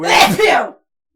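A single loud, broad burst of a human sneeze, sharp and close, lasting under a second before cutting to silence.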